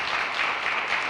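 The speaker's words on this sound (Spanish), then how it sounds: "Con el aplauso del público presente" A studio audience at a television show gives a brief, steady burst of applause, dense clapping lasting about a second with no voices over it.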